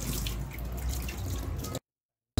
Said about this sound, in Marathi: सोयाबीनला 2 वेळा शुद्ध पाण्याने धुवून घेऊ।